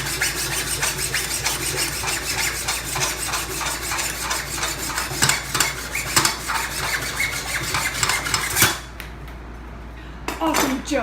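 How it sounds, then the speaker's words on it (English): A hacksaw cuts wire held in a vise while connecting solar generator batteries, a steady close rhythm of loud rasping back-and-forth strokes that stops near the end, followed by a brief clatter. "Hacksaw to cut the wire"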